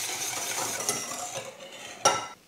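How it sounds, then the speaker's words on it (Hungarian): A hand whisk beats a mixture sweetened with erythritol and vanilla sugar for a gluten-free sponge cake batter, giving a soft, continuous scraping swish in the bowl, ending in a sharper clink before it stops. "Egy kézi habverő segítségével habosítsuk ki,"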